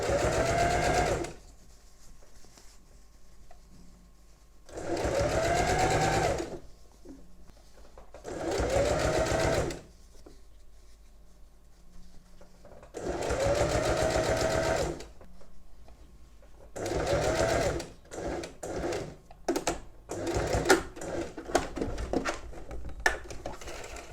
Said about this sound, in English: make sure that you're stitching consistently on that line there, because it will be visible